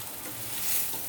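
Steady, crackling sizzle of sliced eggplant frying in hot oil, continuous and fairly loud throughout, with no voices.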